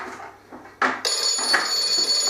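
A phone ringing during a home-brew beer bottling session, a bright electronic ringtone that starts abruptly and keeps sounding loud and close, after a few quiet knocks and handling noises.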